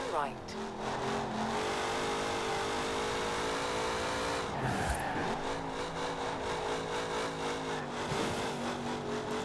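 Car engine in Forza Horizon 4, a steady loud drone that rises and falls as it revs and shifts gears, with a speaking voice over it and a brief dip in the middle.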